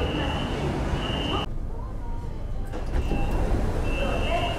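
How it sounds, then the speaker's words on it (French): A BTS Skytrain metro in Bangkok rumbles steadily with a constant mechanical hum, which drops away briefly mid-clip and then returns. "moi, j'attends ici le métro"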